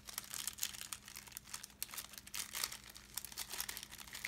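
Backing sheet peeled off a craft sheet, a continuous close crinkling and tearing rustle with uneven bursts over a low steady hum.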